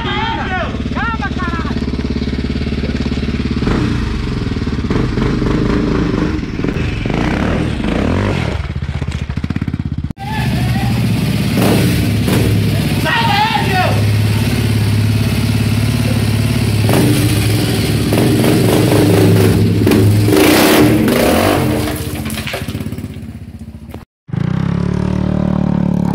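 A motorcycle engine runs loudly and steadily in a garage with clattering and revving throughout, mixed with excited voices, cutting out briefly near the end.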